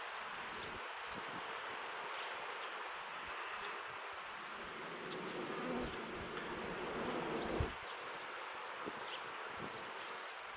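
Honey bees hum and buzz steadily in a dense swarm at a hive, with faint rustling and small knocks underneath.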